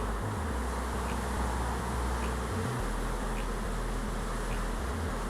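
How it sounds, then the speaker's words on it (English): A dense, steady swarm of bees buzzes close by, a constant droning hum with no speech. "They're bees. They don't like these things."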